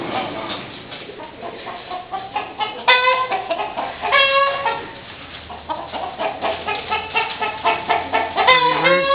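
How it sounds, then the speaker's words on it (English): Chickens and large roosters cluck and call together in a busy farmyard chorus, close and fairly loud, with repeated overlapping squawks and a steady background of hen chatter. "All kinds of chickens here. Big-ass roosters."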